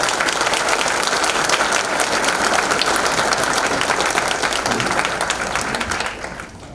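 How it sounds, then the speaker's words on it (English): A crowd applauds at an athletic hall of fame recognition ceremony, with dense, loud, sustained clapping that fades slightly near the end. "Give them a big round of applause."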